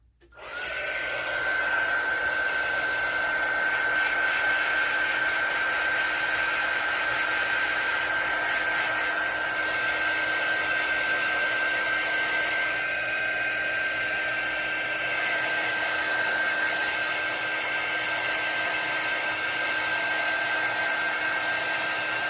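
A hair dryer runs steadily and loud, blowing on a crayon and watercolor craft project, with a constant whine and airy rush that lasts the whole stretch without pause.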